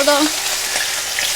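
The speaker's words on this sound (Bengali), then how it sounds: "এবার আমরা তেল দিয়ে দেবো, আর তেলে মাছটাকে পুরো ভেজে নেবো।" Fish, katla for a yogurt curry, fries in hot oil with a loud, continuous spitting sizzle, and a voice is briefly heard at the start.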